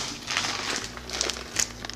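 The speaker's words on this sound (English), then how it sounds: "I didn't like the little seal on the top, so I used my own plastic bag" Arrowhead Mills organic blue popcorn in a plastic bag crinkles and rustles up close, with steady crackly handling throughout and a few sharper crinkles near the end.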